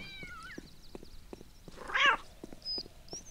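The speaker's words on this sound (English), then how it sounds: "Got a cat." A cat meows in the video game Postal 2, giving a couple of distinct meows over a steady run of soft, evenly spaced thumps, with no talking.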